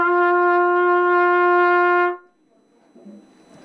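A beginner's first trumpet note rings out as one steady, loud sustained tone for about two seconds, then stops abruptly, leaving faint room noise.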